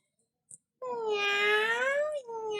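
A voice imitates a cat, giving one long, drawn-out, wavering meow after a brief click, then starting a second meow, clear and close in a quiet room during children's storytelling.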